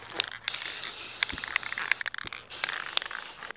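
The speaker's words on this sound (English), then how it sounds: "I'm going to be spray painting mine" Close spray paint hisses onto a small tub in several bursts of varying length, with brief gaps and small clicks between sprays.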